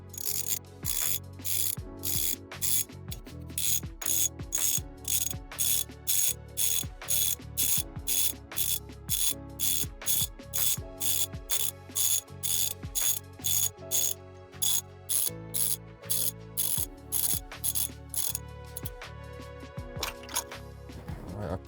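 A ratchet wrench threads a spark plug into the engine of a Fiat 500 Abarth, giving a long run of sharp, evenly spaced pawl clicks in steady bursts. The clicks are close and clear, with no talk.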